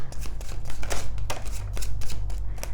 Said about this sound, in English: We live shuffle on this channel